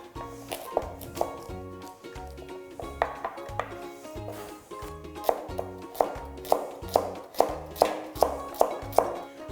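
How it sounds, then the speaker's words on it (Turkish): Steady knife chopping of peeled carrots on a wooden board, repeated sharp taps in a quick rhythm, close by, with soft music underneath. "havuçlarımızı da iyice soyarak Soyduktan sonra da hemen hazırladığımız suyumuzun içerisine alarak doğruyoruz"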